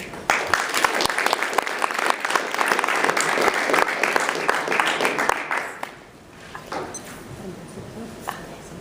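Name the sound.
audience applauding to welcome a speaker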